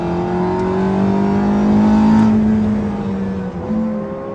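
A Porsche 918 Spyder on a circuit, its engine loud and close with a rising then falling whine as it accelerates and shifts, a sustained smooth roar throughout.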